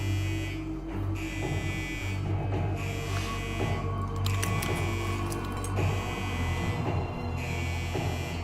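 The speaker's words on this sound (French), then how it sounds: "C'est sûrement une alarme défectueuse." A faulty alarm sounds aboard an airliner in flight, a steady electronic buzz with harmonic tones held over the low cabin and engine hum, continuous for the whole stretch with a few brief clicks and rattles.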